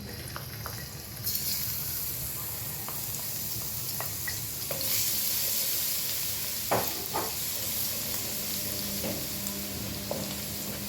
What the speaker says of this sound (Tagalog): Ayan, dahil mainit na, ilagay natin yung ating garlic.